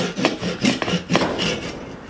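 A Japanese pull saw rasps through wood in several quick back-and-forth strokes, close by, with short gaps between pulls.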